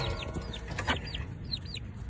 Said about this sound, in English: See the ducks and the chicken.